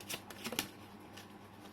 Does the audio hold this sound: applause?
no